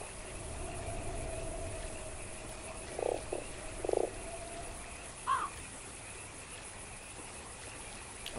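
A toad croaks in a fantasy adventure game, a few short separate croaks near the middle, moderately loud over a steady faint ambient background with no talking.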